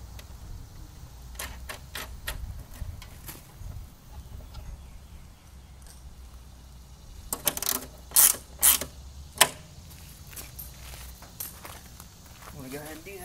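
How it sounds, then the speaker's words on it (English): A ratchet tightening a 7/16 nut on a washer-backed bolt, giving faint intermittent clicking throughout and a louder cluster of sharp ratchet clicks midway, with a person speaking at times. "7/16 nut that you want to tighten down."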